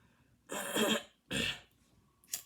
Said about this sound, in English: Damn, I keep coughing.